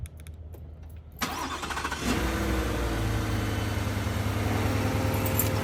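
A 2021 Ford F-150 with the 5.0 V8 and a newly installed S&B intake cranks and fires after about a second, then settles into a steady, loud, close idle rumble with no voices.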